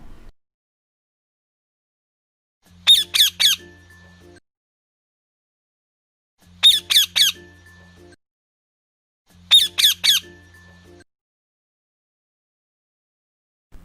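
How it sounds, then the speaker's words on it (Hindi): A cartoon parrot in a Hindi children's moral story lets out three short bursts of shrill, chirping squawks, spaced a few seconds apart over low tones, with silence between each burst. "क्यों आए हो तोते राजा?"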